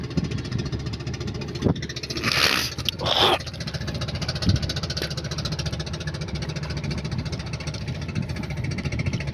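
A fishing boat's engine runs on the Ganges river, a steady close drone with a couple of brief louder bursts early on and no talk.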